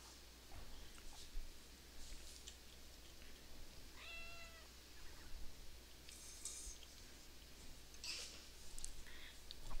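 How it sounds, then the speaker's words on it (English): In the video game RimWorld, a cat gives a single short meow near the middle, faint and brief, over a low steady background hum with scattered soft clicks. "Why is the cat mewing?"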